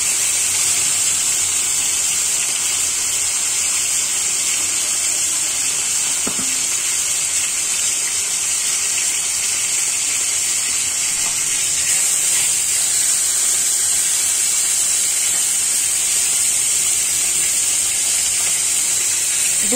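Marinated rohu fish frying in oil seasoned with panch phoron gives a steady, even sizzling hiss for the whole stretch, with a few faint pops and a slight swell partway through.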